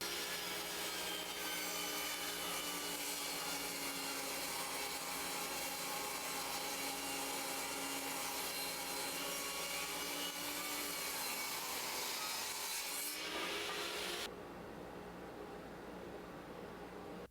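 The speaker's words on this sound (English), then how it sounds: "Let's start all this stuff and rip a 2x4." A Skilsaw 10-inch wormdrive table saw rips a 2x4 with a Harbor Freight dust collector running, making a loud, steady whining roar with the grinding rasp of the cut, before the cutting noise drops away near the end.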